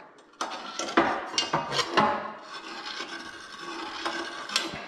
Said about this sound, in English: these are called deburring tools. And they take the burrs off.